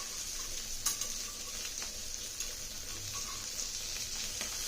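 Red tomatoes, green chillies or salt fish being dry-roasted without oil in a pan on low flame and turned over, giving a soft, steady sizzle with occasional light scraping sounds, fairly quiet, no talking.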